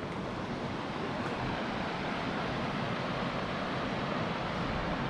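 Steady broadband rush of flowing water where the Cehennem Deresi stream joins the Tigris River near Yarbaşı village, İdil, Şırnak, continuous and fairly loud with some wind noise and no talk.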